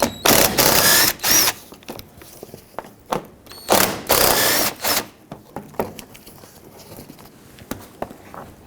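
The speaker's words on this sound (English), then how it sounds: "Take a 10mm socket and remove the 4 fasteners that hold this shield on." 10mm socket ratchet removing nuts and bolts from a splash shield on a 2007-2014 Chevrolet Silverado 2500 HD: loud bursts of fast clicking ratcheting, close up, separated by quieter handling clicks and pauses.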